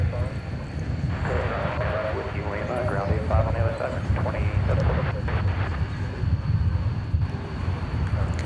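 Classic Boeing 747 airliner on the runway at DFW Airport at night, a broad distant engine roar mixed with wind noise on the microphone, with people talking over it.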